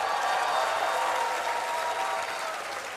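An indoor audience at a Rotary conference opening in Diani claps in a dense, sustained round of applause that tapers slightly toward the end.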